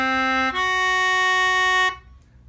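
A mountain dulcimer plays a tritone interval, a single ringing note followed by a second note that joins it and sustains for over a second before both stop abruptly, with no talking.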